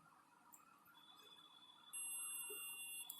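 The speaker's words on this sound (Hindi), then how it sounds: "बीप साउंड आ रहा है इधर से," A Sony VAIO laptop speaker with a broken solder connection gives off a thin, high electronic tone that starts partway through and holds steadily, faint but clear over a quiet hiss.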